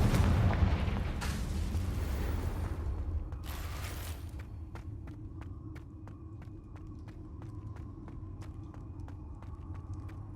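Confringo fire spell blasts in Hogwarts Legacy, a heavy booming explosion with rumbling aftermath, followed by a second burst and then a train of sharp evenly spaced crackling ticks over a low ambient drone.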